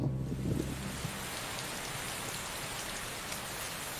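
Heavy rain pours steadily on African grassland where lions roam, a dense, continuous hiss of drops with no voices, slightly busier and rougher during the first second.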